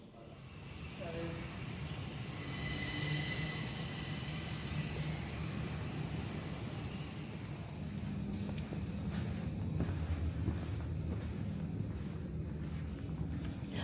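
Stockholm Metro C20 subway train on the Blue Line, a steady rumbling ride noise with a continuous low roar and faint high whine throughout, with some background voices.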